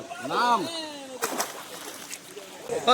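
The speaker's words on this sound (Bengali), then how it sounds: "আমরা এখন ওই সুইমিং পুলে এসছি সানসিটি রিসোর্টে" Water splashes in an outdoor resort swimming pool at Suncity Resort in Lataguri: a few short, bright splashes mixed with nearby chatter and voices.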